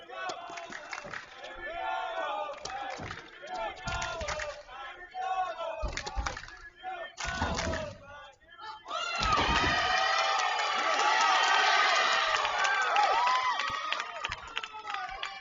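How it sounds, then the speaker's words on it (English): A crowd at an NCAA Division I women's tennis super regional shouts a rhythmic chant in bursts, then swells into sustained loud cheering and yelling. "that's a normal, very common cheer for Texas. Texas fight, Texas fight. You hear that one a lot."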